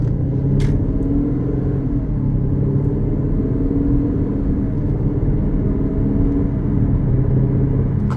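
Steady low engine rumble from a 2018 Aston Martin DB11 driving at moderate speed, a continuous close cabin drone without clear shift breaks.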